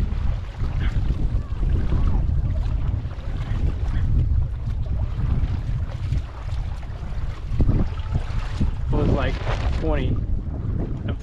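A homemade paddle board fitted with a cheap sail glides across open water in strong wind, heavy wind buffeting on the microphone and water splashing throughout, with a voice breaking in briefly near the end.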